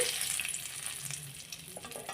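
Fresh oil sizzles in a kadai after an egg has been lifted out, a continuous soft crackling hiss close by with a faint clink near the end.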